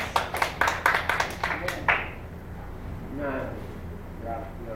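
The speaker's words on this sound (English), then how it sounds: "Let's clap our hands." Church congregation clapping their hands in a steady rhythmic beat during praise worship, about two seconds of sharp repeated claps before it fades into talking.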